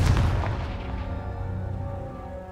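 A Confringo spell blast in Hogwarts Legacy goes off as a loud, deep boom at the start, then rolls away into a long rumbling decay with no voices over it.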